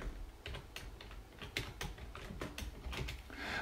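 Rapid, irregular keystrokes on a computer keyboard, quiet and close, clicking steadily for several seconds with no voices.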